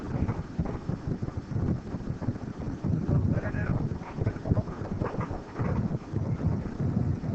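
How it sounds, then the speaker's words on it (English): An eight-knot westerly wind buffets the microphone steadily while sailing among the San Juan Islands, a constant low rumble with gusty swells and no clear voices. "About a 8-knot wind coming out of the west."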